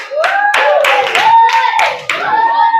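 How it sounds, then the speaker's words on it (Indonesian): A classroom claps for a student group. The clapping is loud and close, arriving in several sharp bursts under prominent, excited children's voices that ring over it. "Tepuk tangan untuk kelompok."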